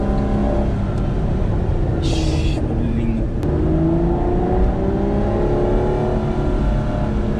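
An Aston Martin DBS V12 engine hums and revs inside the car cabin, its tone rising and falling steadily, with a brief higher whine partway through.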